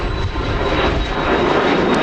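A jet airliner at Dallas Love Field airport gives a loud, sustained engine roar that stays steady and close for the whole short stretch, with no voices over it.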